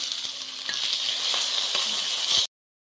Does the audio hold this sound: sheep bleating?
no